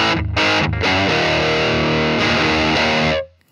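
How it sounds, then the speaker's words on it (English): An electric guitar plays clean straight into an amp, with sustained chords ringing loud and alone for about three seconds before cutting off. "the guitar into the amp is going to sound like this."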